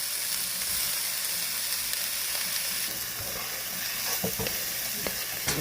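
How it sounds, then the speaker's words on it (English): Onions and peppers sweat in a pan with a continuous bright sizzle, close and steady, broken near the end by a few light clicks and taps of a utensil. "We got our onions, peppers, and we're going to sweat these down."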